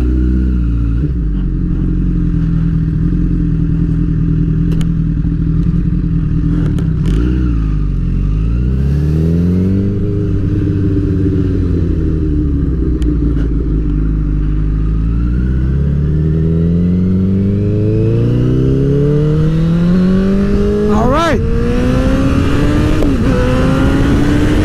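A sportbike motorcycle engine accelerates hard up an on-ramp, loud and close, revving up through several gears with rising whine and brief drops at each shift, wind noise constant throughout.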